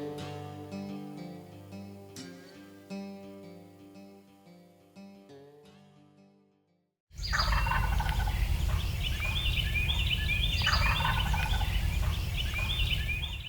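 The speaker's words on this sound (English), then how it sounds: "great bird" After a few seconds of music and a brief silence, a wild turkey gobbles during a spring hunt in Kansas. Several loud rolling gobbles repeat over a steady outdoor background.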